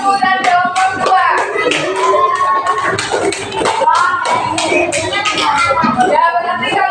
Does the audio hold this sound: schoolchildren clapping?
yes